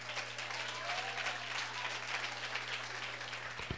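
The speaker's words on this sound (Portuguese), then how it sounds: "dê uma salva de palmas a ele." A church congregation claps steadily for Jesus at a church's golden jubilee celebration, a dense, even wash of applause that fills the whole moment at moderate distance and stays fairly soft.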